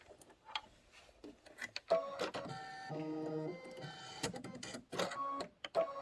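Embroidery machine stitching a quilt pillow block, a steady mechanical whirring with rhythmic tonal buzzing and ticking, fairly quiet and close, continuing for several seconds.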